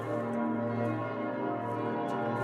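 Church bells of Notre Dame in Paris ringing in a dense, sustained wash of overlapping tones, loud and steady throughout with no pauses between strikes.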